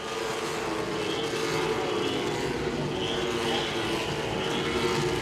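Late model race cars on the final lap at Langley Speedway, a steady engine roar with rising and falling pitch as cars pass, heard from a distance.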